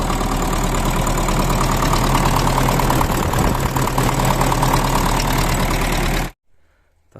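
A tractor engine, started after sitting idle through winter, idles loudly and steadily, a rough low rumble with a slight knock, then cuts off abruptly near the end, leaving near silence.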